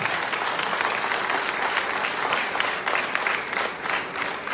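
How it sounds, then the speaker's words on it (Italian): An outdoor political rally crowd in Codogno, Lodi, applauds loudly and steadily, a continuous patter of many hands clapping that swells slightly and then eases near the end. "Quindi fateglielo forte l'applauso"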